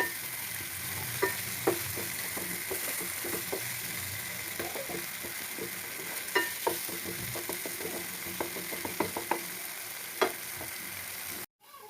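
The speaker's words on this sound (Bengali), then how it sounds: "টমেটো পেস্ট দিয়ে আর একটু ভালো করে চালিয়ে নেব।" Fish curry masala with tomato paste fries in a pan, a constant oily sizzle broken by repeated clicks and scrapes of a spatula stirring, heard alone and fairly soft.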